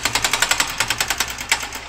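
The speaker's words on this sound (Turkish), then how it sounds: "Artcon inşaatı vinçlerinin çalışmasını görüyorsunuz" Cranes at work on a building site in Caddebostan, Kadıköy, lifting formwork during an urban-renewal construction project, heard as a rapid, steady, rhythmic mechanical clatter, fairly close and with no talk.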